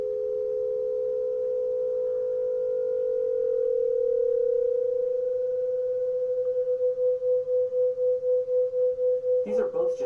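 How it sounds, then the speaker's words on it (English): Two steady pure tones sounding together, moving closer in pitch, their interference producing a slow throbbing pulse that quickens toward the end, with a brief noisy burst at the close. "Listen as the pitch of these two tones gets closer to each other."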